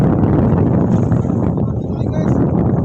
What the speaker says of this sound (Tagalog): Lakas guys ang hangin guys.